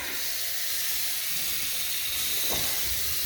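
Cold water runs from a bathroom sink faucet, a steady close hiss of flow at an even level across the whole stretch, with no one talking.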